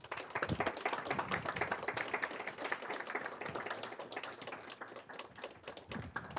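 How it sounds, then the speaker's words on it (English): A small audience at a student cybersecurity club education session claps for the sponsors, a thin, uneven spatter of individual hand claps that swells and trails off, with no talking. "Let's clap it up for our sponsors."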